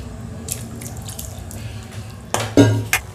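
Water is poured into a cooking pot of potatoes while making a Tamil dry fish gravy. Faint drips and kitchen clatter lead into a short, close splash of pouring near the end.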